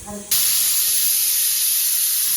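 Ground spice paste poured into a simmering curry sets off a sudden loud, steady hiss that jumps in abruptly after a brief quieter moment and holds close and strong.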